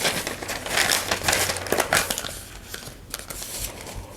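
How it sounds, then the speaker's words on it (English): A square of paper folded in half for a craft flower vase mat, giving close, steady crinkling and rustling with a few sharper creases, heard alone. "Fold your square paper in half, and then fold it in half again."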